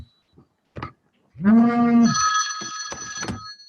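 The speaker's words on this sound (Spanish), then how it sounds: "suena el teléfono. El teléfono de alguien." A telephone rings with a bright electronic trill, starting after a short sound and carrying on steadily for a couple of seconds in a quiet room during a conversation recording.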